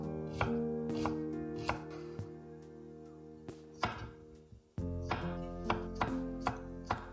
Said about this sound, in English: I sliced up some red onion.